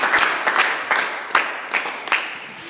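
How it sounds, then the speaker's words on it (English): An audience at a school digital club event applauds, a steady wash of many hands with a few louder individual claps standing out, fairly close and without talk. "Can we clap for him, please?"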